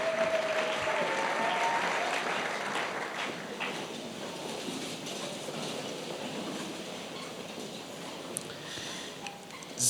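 A church congregation applauds in a large hall, a sustained, fairly quiet patter of many hands clapping that fades slowly over about ten seconds.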